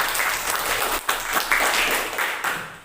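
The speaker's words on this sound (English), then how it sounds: "Give applause for Al." A classroom group applauds together, steady clapping from many hands that carries on evenly for a few seconds with slight surges.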